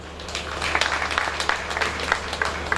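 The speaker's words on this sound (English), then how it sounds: "So let us clap for our President." Audience applause for the President at a Ministry of Finance and Planning gathering, steady clapping spread across the room at a moderate distance with no talk over it.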